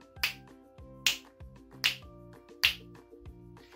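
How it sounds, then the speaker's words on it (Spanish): Four crisp finger snaps at a steady, even pace, close and clear, ringing out over a soft sustained musical backing. "Chasquear los dedos es esto, ¿verdad? Entonces hacemos cuatro chasquidos igual."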